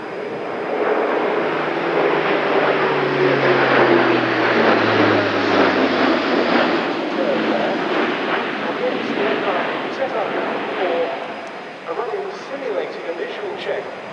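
Loud sustained turboprop roar of an Airbus A400M Atlas military transport of the Luftwaffe during a flight display at RIAT 2025, with a slowly shifting engine drone passing overhead; a voice talks over it.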